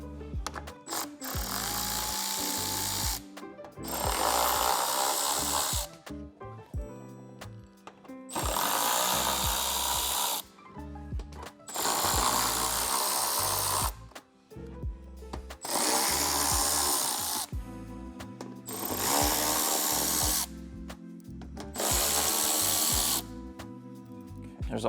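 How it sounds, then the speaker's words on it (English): Bolts are removed from a Toyota Tundra fender flare with a ratchet and 10mm socket, heard as about seven loud, buzzing bursts of tool noise, each lasting a couple of seconds with short pauses between them. "We have a ratchet and a 10mm socket."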